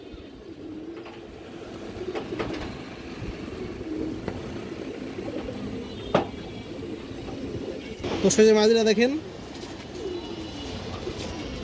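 Pigeons with black tails and wings, including a bright-eyed bird, coo steadily in a loft while someone talks over them; a louder, closer burst of cooing rises briefly near the end.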